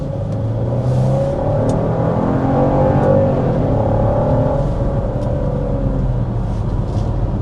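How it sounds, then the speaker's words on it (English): Hard acceleration in a 2025 Genesis GV70 with a 3.5-liter twin-turbo V6, heard from inside as a steady, loud engine roar whose pitch climbs and holds through the pull, with no talking. "we're going to go ahead and start with a hard acceleration"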